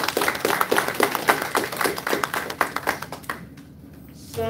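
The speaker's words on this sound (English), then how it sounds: "Let us all give Dr. Cates a big round of applause." Audience applause for a doctor at a health seminar, a steady burst of clapping from a modest crowd that fades out after a few seconds into near silence.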